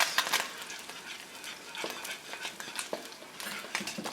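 Creamy polenta stirred in a pan with a utensil, giving soft, thick scraping and squelching strokes in an irregular rhythm, close and fairly quiet, with no talk.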